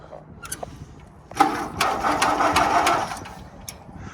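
A tractor engine catches after the starter engages and runs unevenly for a couple of seconds, a rough mid-range chug that rises sharply and then fades back down, with faint background noise before and after.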